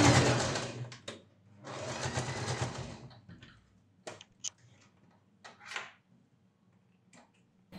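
Sewing machine stitching the shoulder strap of a churidar neck, with two long bursts of steady motor whirring followed by a series of short clicks and brief runs.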